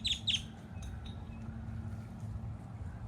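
A great-tailed grackle at White Rock Lake in Dallas gives two quick, shrill chirps near the start. It then falls quiet, leaving a steady low rumble of wind and lapping water beneath.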